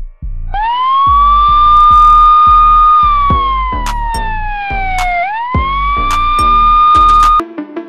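A police car siren wails loudly and close, its tone sweeping steadily and then dipping, over a regular low thumping pulse from a passing vehicle, with no talk.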